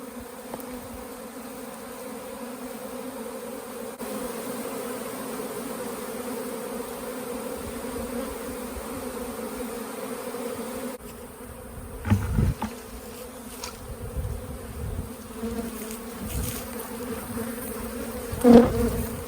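A loud, sustained drone of a swarm of honey bees buzzing nearby on a farm, gathering on a bucket, with some bumps and handling noises toward the end.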